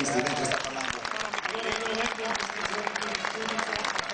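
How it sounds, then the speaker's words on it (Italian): A crowd applauds at the Rally del Friuli Alpi Orientali 2010 award ceremony, steady clapping from many hands with a voice talking over it throughout. "un grande applauso per questi due protagonisti"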